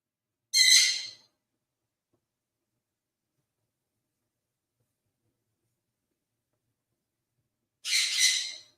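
A bird squawks twice indoors, with one short harsh call near the start and another about seven seconds later. Both calls are fairly loud and bright, with silence between them.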